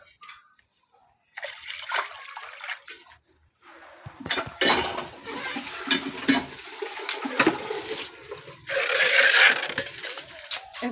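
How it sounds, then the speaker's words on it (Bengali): Water pours and splashes in a pot as soaked rice is rinsed by hand, with clinking of metal vessels; bursts of running water come and go, louder near the end, with no speech. "চাউলগুলো ধুয়ে নিচ্ছি ভালোভাবে"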